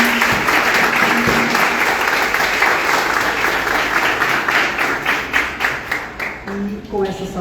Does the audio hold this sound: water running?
no